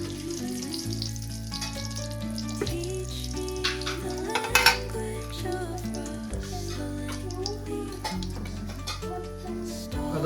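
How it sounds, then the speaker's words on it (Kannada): Cumin and mustard seeds frying in oil for a home-style egg curry give a steady, soft crackling sizzle with light ticks. It sits under background music. "ಆಯಿಲ್ನಾಗ ಜೀರಿಗೆ ಮತ್ತು ಸಾಸಿವೆ ಫ್ರೈ ಮಾಡ್ಕೊರಿ"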